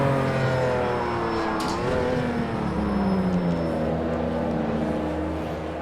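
Race car engines in a racing sim video game, a 570 car among them, hold a loud, steady droning roar with pitch shifts as revs climb and fall, running continuously with no talk.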